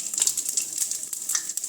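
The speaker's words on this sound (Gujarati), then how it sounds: "રાઈ ફૂટવા માંડી છે" Mustard seeds crackle and pop in hot oil, tempering for Bhal-style Gujarati dal, a quick irregular patter of sharp little clicks over a steady bright sizzle, close and fairly quiet.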